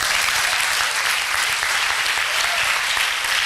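An audience at a church congress bursts into sustained applause, dense, loud clapping that holds steady without pause throughout.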